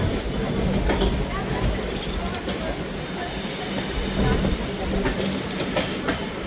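The Howrah–Jagdalpur Samaleswari Express runs along with a continuous heavy rumble and repeating wheel clatter on the rails, loud and unbroken throughout.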